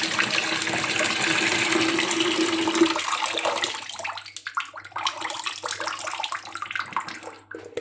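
Hot water gushes out of a pot through a clip-on strainer in a loud, steady pour that tapers after a few seconds into sparse drips and trickles.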